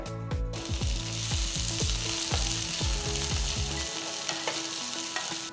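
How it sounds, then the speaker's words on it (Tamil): Onions, green chillies and ginger sizzle and crackle steadily in a hot pan while a utensil scrapes and taps against it in a repeated stirring rhythm. "3 நறுக்கின பச்சை மிளகாய், பொடுசா நறுக்கின 1 துண்டு இஞ்சி சேர்த்து வதக்குங்க."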